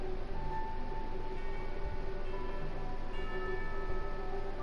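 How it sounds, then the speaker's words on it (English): A bell rings out in the Genshin Impact video game, sustained resonant tones layered over a dense steady ambient game soundscape, repeating softly across the few seconds with no one talking. "So there's that bell sound again."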